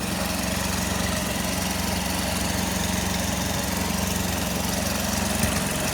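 A generator engine drones steadily and loudly at close range for the whole stretch, a dense continuous mechanical hum with no pauses.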